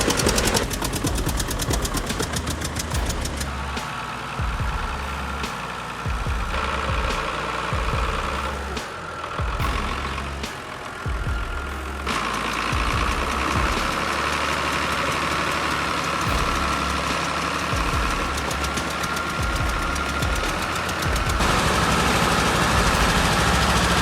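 A compact tractor stuck in saturated mud, its small engine idling and revving in uneven surges with knocking and rattling vibration, loud and close throughout, with no talking.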